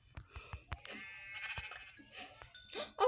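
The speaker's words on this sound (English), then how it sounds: "Two sheep." Sheep bleating in the Minecraft video game, a few short bleats amid game sound effects and background noise, fairly close, with no talk over them.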